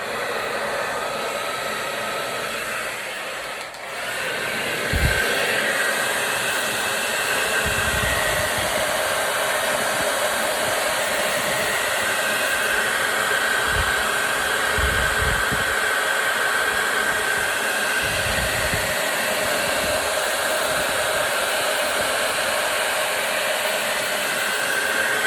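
Hair dryer blowing to dry paint on a reindeer-shaped craft, a loud continuous close-up whoosh held steady throughout with a few faint knocks and handling sounds beneath it.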